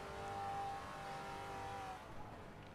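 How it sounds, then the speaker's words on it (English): A GT4-class race car in a racing video game, running at the Nürburgring Nordschleife, gives a steady growling engine drone at sustained revs, fairly loud and continuous, easing slightly toward the end with no talk over it. "Oh, that's a nice growl of the car, definitely."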